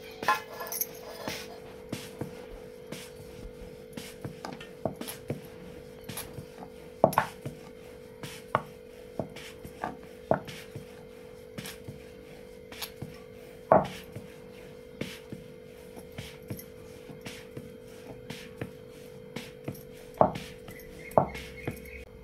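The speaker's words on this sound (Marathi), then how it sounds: "आता मी दशमी लाटून घेते।" Rajgira (amaranth flour) dashmi flatbread dough being rolled out, with a steady series of soft knocks and taps from the rolling work repeating every second or so over a low background hum, close by and fairly quiet.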